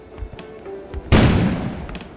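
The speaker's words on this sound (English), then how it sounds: "An explosion suddenly occurred outside." A sudden explosion bursts outside in the video game Kona, one loud boom after quiet ambience, its rumble decaying over the following second.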